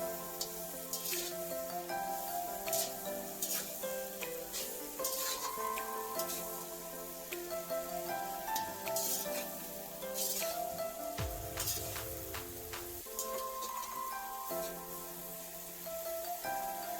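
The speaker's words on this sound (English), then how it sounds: "now it's time to fry it. Here we are using mustard oil" Prawns frying in mustard oil for pickle, a faint steady sizzle with frequent sharp clinks and scrapes of a utensil against the pan throughout.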